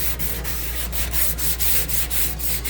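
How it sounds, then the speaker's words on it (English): Sandpaper rubbing back and forth over the painted metal interior of a microwave oven, a close, loud, rhythmic scratching with about ten even strokes over a few seconds, no talking. "And I'm gonna sand it."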